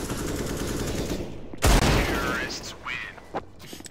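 Gunfire in a first-person shooter game: rapid automatic bursts crackle at the start, then a loud close boom, with a player's voice talking over the shots.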